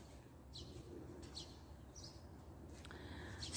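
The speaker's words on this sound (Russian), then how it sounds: "вы, наверное, слышите, у нас птички поют" Small birds chirp outdoors on a warm, sunny day at a workplace, with a few short, faint high calls scattered over steady background noise.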